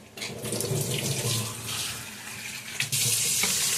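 Water runs steadily from a tap, a continuous splashing rush that briefly changes pitch and grows brighter near the end.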